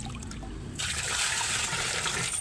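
Water gushes into the tub of a Union Labamatic single-tub washing machine during a leak test, starting abruptly after a quiet moment with a low hum, then a steady close splashing pour.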